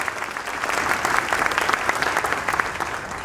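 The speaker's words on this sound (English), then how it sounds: "if you could just give them a round of applause at this time" A graduation ceremony audience gives sustained, dense applause for the graduates' parents and families, steady and loud throughout with no voices standing out.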